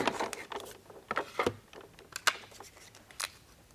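Scissors snip through paper while cutting out pieces for an embossed rose card, giving a quiet series of short, crisp cuts spaced irregularly and heard close up with no talk.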